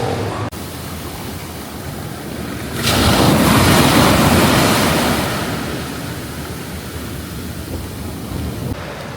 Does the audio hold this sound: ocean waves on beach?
yes